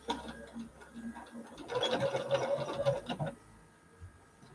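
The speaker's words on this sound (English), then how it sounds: "using this foot, is sew 1/4 of an inch in all the way around" A sewing machine stitches a quarter-inch seam around a fabric placemat, a brief steady whirring run in the middle of otherwise quiet, close-up sound.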